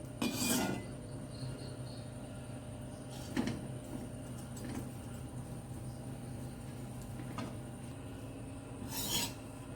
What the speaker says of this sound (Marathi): आता खोबरं हे सुक्कच भाजायचं आहे याच्यामध्ये